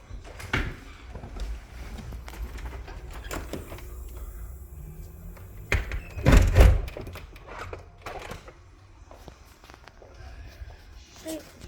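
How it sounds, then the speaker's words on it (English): A glass patio door is slid and shut with a thud, followed by clicks of the lock and shuffling footsteps nearby, while people talk intermittently around it. "The door is locked."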